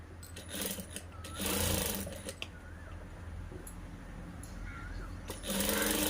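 A sewing machine runs in short bursts and pauses, rattling quickly as it stitches the lining of a drop-neck blouse, close by and fairly quiet, with no talking.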